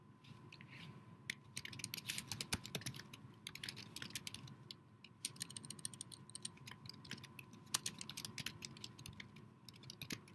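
Rapid typing on a computer keyboard, a close and fairly faint patter of irregular key clicks running continuously with brief pauses.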